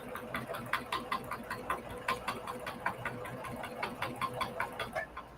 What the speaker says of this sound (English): I'm going to lower my needle into my fabric, back stitch, and then move forward